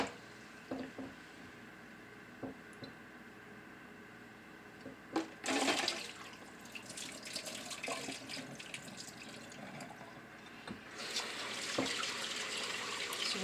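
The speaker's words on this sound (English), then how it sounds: "So first we're going to start by rinsing the rice." Tap water running onto rice being rinsed in a sink for a rice pudding, starting after a few soft clinks and flowing steadily, then strengthening near the end.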